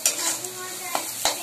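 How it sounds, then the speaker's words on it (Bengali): Carrots sizzle in a frying pan while a utensil stirs them, giving a few short scraping clinks over a soft, steady frying hiss. The sound is close and brief. "গাজরটা ভাজা হয়ে গেছে।"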